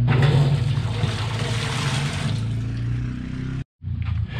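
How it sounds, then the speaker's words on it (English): Water runs steadily into a pot being readied for steaming Maryland blue crabs, a loud continuous gushing with a low rumble beneath, ending in a brief cutoff before the flow briefly resumes. "I'm going to go ahead and put some water in it"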